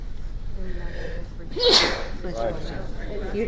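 One sharp sneeze bursts out midway through a school board meeting, loud and close, over a low background hum with faint voices before and after.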